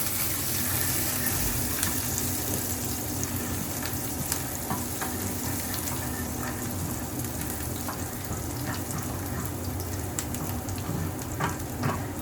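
Onions frying in a pan for a Bengali monsoon meal, a steady dense sizzle with occasional stirring scrapes, loud and continuous throughout with no voices.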